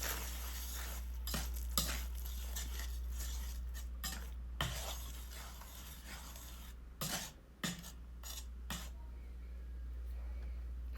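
Keto enchilada filling being mixed with spices in a bowl, a steady scraping and stirring with clinks of a utensil against the dish, broken by a few sharper knocks, close by with no talk.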